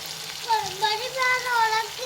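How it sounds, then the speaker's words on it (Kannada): Hot oil tempering (oggarane) for avalakki, flattened rice, sizzling steadily and close up, a bright continuous crackle with no voices over it. "ಅವಲಕ್ಕಿಗೆ ಒಗ್ಗರಣೆ ರೆಡಿ ಆಯ್ತು"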